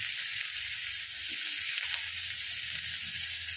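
Chopped onion hitting hot oil in a pan, giving a steady loud sizzle and crackle that holds without a break, with a few faint stirring knocks underneath.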